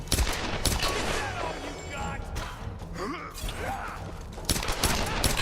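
Gunfire in the video game Tomb Raider, bursts of loud shots at the start and end with quieter scuffles and effects between, alongside someone talking.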